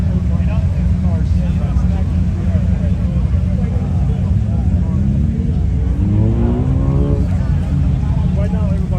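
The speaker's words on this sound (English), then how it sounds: "Revved up exoticcars in the building." Exotic supercars at a Florida car meet, engines droning loud and close with a continuous low rumble and a rising rev near the end, voices faintly mixed in.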